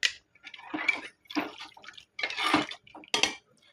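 Water poured into Kerala-style fish curry gravy in a pot: several short splashy pours in separate bursts, close and fairly loud, with light clinks of utensils against the pot between them.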